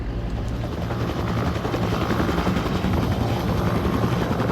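A military helicopter airlifts a suspect to Camp Bastion during a night operation, its rotors producing a steady, dense drone that fills the whole clip without any talk.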